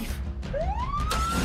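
A cartoon police monster truck's siren wails as one rising tone that sweeps upward and holds, loud and close, over steady background music and effects.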